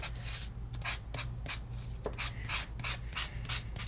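A sandpaper block rubbed briskly across a surface in a craft setting, making close, quiet, rhythmic back-and-forth scratchy strokes with no talking.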